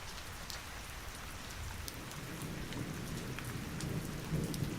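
Steady rain pours down on surfaces with a low, rolling rumble of thunder building underneath, continuous and enveloping, with no voices present.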